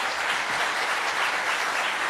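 Conference audience applauding a speaker, a dense, even wash of clapping from many hands at moderate volume, continuous for the full couple of seconds with no talk over it.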